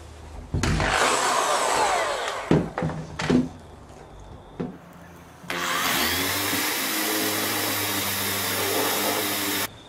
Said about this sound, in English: all that's left to do is drill it